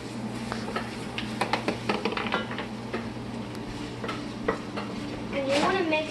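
Sauce is stirred in a pan with a utensil, giving soft scraping and clinking strokes over a low background hum and faint sizzle, fairly close and moderately quiet.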